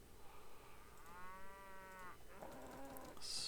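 Cattle mooing in the video game Mount and Blade: Warband, one drawn-out low moo followed by a shorter second call, fairly clear over a quiet background.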